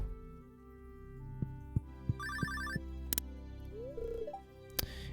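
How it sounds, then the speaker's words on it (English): Phone ringing in the Stardew Valley video game, a repeated electronic ringtone of short bursts that sounds alone over a steady low game background, with a few scattered clicks. "Oh! The phone is ringing."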